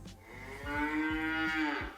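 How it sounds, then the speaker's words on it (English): A single drawn-out cow moo, played as a sound effect by Siri on a HomePod mini smart speaker, rises and sustains for over a second before fading, clear and alone. "A cow sounds like this."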